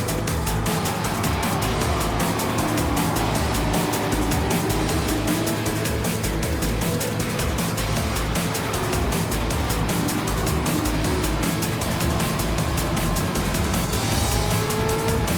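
Camaro and Corvette race cars in a racing video game roar continuously at full throttle, with engine drone and tire noise filling the whole stretch, no talk heard.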